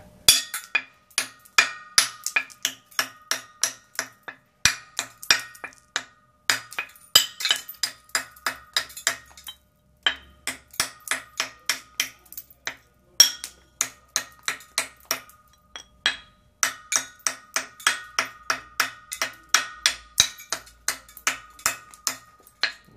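The edge of a clear glass piece is chipped along a scored pattern line, producing rapid bursts of crisp, bright clinks and ticks in quick rhythmic runs, broken by brief pauses, close and distinct.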